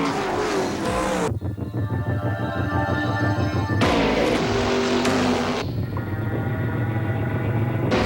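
Race cars of the Viagra racing team roar past at speed, engines revving and whining in loud, close passes that cut in and out between segments of background music.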